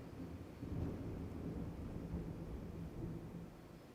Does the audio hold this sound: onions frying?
no